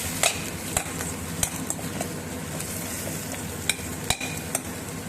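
Salted chopped onions sautéing in a pan for Tamil-style egg rice, with a continuous close sizzle broken by several sharp spatula clicks and scrapes against the pan as they are stirred; nobody talks.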